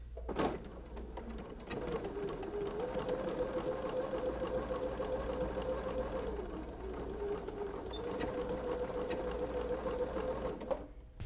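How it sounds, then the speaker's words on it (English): Sewing machine running a long steady stitching pass while stitching down quilt binding, a close, even mechanical hum with fast needle rhythm, starting and stopping with brief clicks. "stitch it down all the way around."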